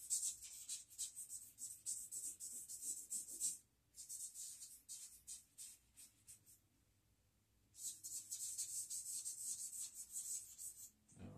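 Rubbing a drawing on paper to soften an edge: close, breathy scratchy strokes in quick rhythmic bursts, pausing twice, once briefly and once for several seconds of quiet, before the rubbing starts again.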